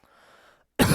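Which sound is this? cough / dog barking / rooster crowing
cough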